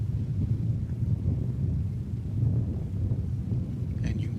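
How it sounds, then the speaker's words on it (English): Wind buffets a microphone outdoors under a fixed canopy at DFW Airport, a steady low rumbling roar with gusty swells throughout, and a faint high tone near the end. "And you can probably hear the wind."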